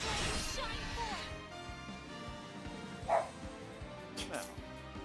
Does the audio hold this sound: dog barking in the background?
yes